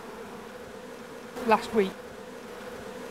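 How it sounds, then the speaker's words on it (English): Bees hum around a freshly drawn brood frame lifted from a busy hive, a brief swell of buzzing rising twice in quick succession over a low steady drone of the colony. "This is getting quite busy with bees, isn't it?"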